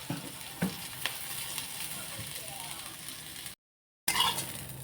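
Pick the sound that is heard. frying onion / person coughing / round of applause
frying onion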